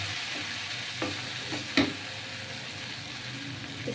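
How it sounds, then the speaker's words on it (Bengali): Pointed gourd and soybean curry fries quietly in a pan, a soft steady sizzle broken by a few light clinks of stirring. "খুব সুন্দর করে ভাজা হবে"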